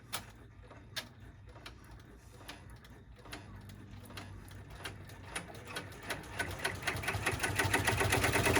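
A sewing machine runs a securing stitch across the D-ring strap connectors of a Stars and Stripes fabric clutch, a close, steady rapid ticking whirr that grows louder and denser toward the end.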